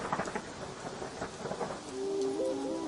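Thunder rumbles through a steady downpour of rain in a stormy night scene, with heavy rain hiss throughout and low thunder rolls building, followed by a faint sustained tonal whine toward the end.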